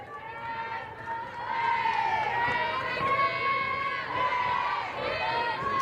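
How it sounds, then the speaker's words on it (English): At a women's college softball game between Arizona and California, players in the dugouts chant and cheer in a rhythmic, repeated pattern, loud and continuous, with crowd noise around them. "Love the rhythmic cheering from the dugouts"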